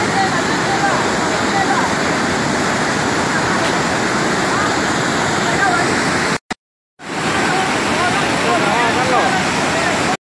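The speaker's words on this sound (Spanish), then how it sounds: "decidieron abrir las compuertas de la presa del río Ochomogo para así tratar de evitar posibles inundaciones y desborde del mismo río" Water rushing through the opened floodgates of a dam on the Ochomogo river in Nandaime, a loud, continuous roar that is cut off by a brief dropout before resuming.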